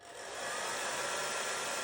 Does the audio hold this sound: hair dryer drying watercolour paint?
yes